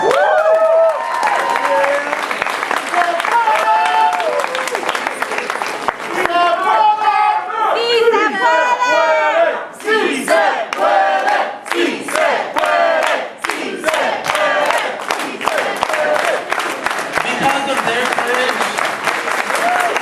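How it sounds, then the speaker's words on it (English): A large crowd at Long Beach's People's State of the City 2016 gathering applauds and cheers loudly and continuously, with shouts and whoops rising over sustained clapping for about twenty seconds. "Give a big round of applause."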